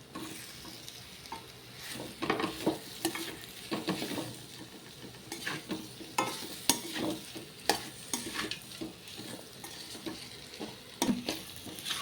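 Potato pieces frying in a pan give a soft sizzle, while repeated stirring adds close scraping and clattering strokes at an irregular rhythm.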